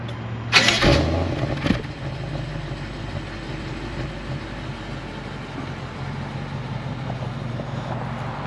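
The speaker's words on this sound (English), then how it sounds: "let's see if we can hear what this exhaust sounds like" A 2021 BMW 750i engine cranks and catches with a brief loud burst, then settles into a steady low exhaust rumble at idle, close by with no talk.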